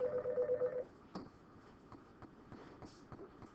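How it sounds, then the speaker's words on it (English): A telephone rings once with a steady electronic tone at close range, cutting off abruptly after under a second, followed by quiet room noise. "Sorry, I got interrupted by the phone"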